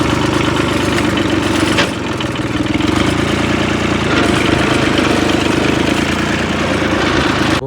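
A push-button-start tractor engine idles close by, a loud, steady and continuous rumble with a brief dip near the start and no voices.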